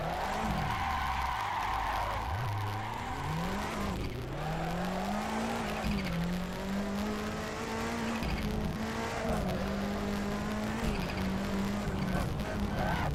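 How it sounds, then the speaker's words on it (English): A car drifting in a VR driving game at night. A steady, fairly quiet engine drone runs without a break, with long sliding tire squeals rising and falling over it and no one speaking. "The engine is a hell of a lot quieter now."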